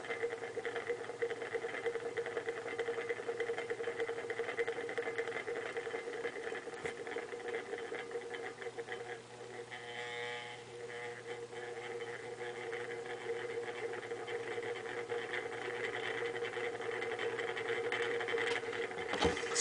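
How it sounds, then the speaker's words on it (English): A homemade AC induction motor spins a beer can, giving a steady, faint mechanical hum with a light buzzing texture that runs unbroken throughout, without speech. "So this is a really cute demo of the AC induction motor."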